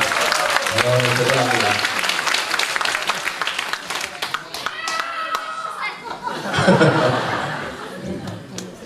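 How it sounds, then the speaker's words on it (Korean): A church congregation at a family service claps for the Sunday school students, a dense wash of applause with some chuckling, while someone speaks briefly over it before it fades and swells again. "주일학생 다시 한번 박수 한번 주세요"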